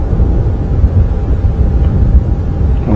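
Gusting wind buffets the microphone on an open morning safari drive at Djuma Game Reserve, a loud continuous low rumble with surging gusts throughout and no voices.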